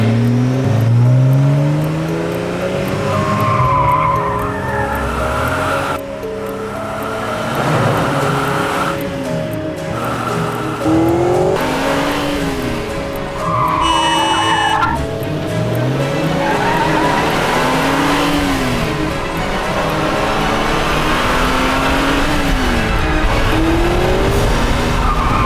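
A car races at speed with its engine roaring and its tires squealing in repeated long skids. The sound is loud and close throughout, and no voices are heard.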